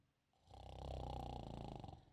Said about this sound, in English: Somebody snoring?